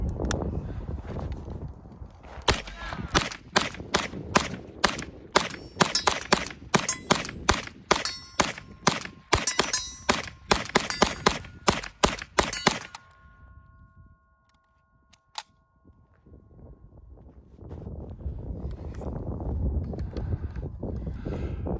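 UZI 9mm carbine fired from the hip at an outdoor range, a long run of sharp, loud reports in quick succession that stops abruptly, then wind noise and quiet.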